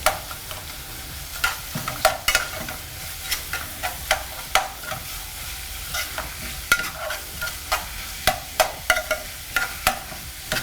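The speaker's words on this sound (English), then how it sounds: "We're just going to give the saltfish a quick stir." Saltfish sauce sizzling in a pan while a spoon stirs it in quick, regular strokes, sharp scrapes and taps punctuating a constant frying hiss, close up with no voices.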